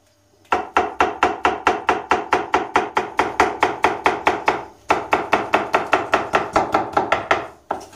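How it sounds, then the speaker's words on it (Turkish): A knife chops capia peppers in fast, evenly spaced strokes, about thirty close, crisp knocks in two steady runs separated by a brief pause, with no voices. "bir tane de biber kapya doğrayacağız."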